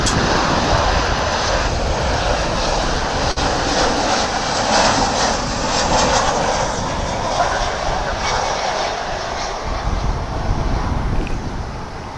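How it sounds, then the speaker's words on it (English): An American Airlines Boeing 737-800 arriving from Calgary roars in to land on runway 18R at DFW, a loud, sustained jet rumble and whine close by that holds steady throughout. "Coming in from Calgary after a 3-hour and 13-minute flight is American Airlines Flight 2521, the 737-800"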